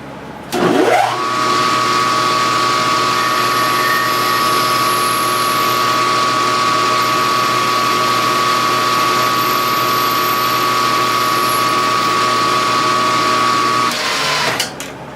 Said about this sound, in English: I'm going to drill with a 1/16 drill.